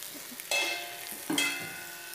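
Six idlis frying in a little oil in a pan, with crackling sizzle bursts and stirring scrapes, near and loud, rising sharply twice and then easing back to a steady fry.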